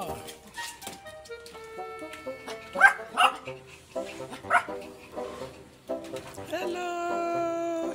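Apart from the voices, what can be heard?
two puppies yipping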